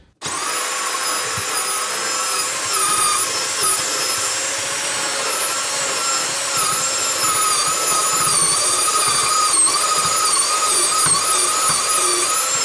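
A power drill bores a hole into wood during DIY plumbing work, a steady high-pitched motor whine that runs without a break for about thirteen seconds, with no talking.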